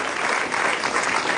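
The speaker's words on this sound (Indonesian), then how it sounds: "Oke, tepuk tangan buat Bintang." Audience applause for a comedian at a stand-up comedy show, a brief, steady wash of many hands clapping with no voices over it.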